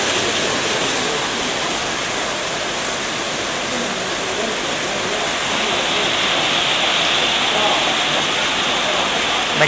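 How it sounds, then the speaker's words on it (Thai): Heavy rain pours down steadily and loudly during the cleaning of a fish pond, a dense unbroken roar lasting throughout with no voices. "ล้างบ่อปลานะครับในบรรยากาศฝนตกนะฮะ"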